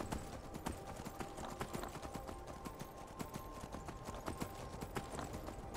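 A horse in Skyrim trots with a steady run of faint hoof clip-clops, a regular rhythm of clicks set in quiet game ambience.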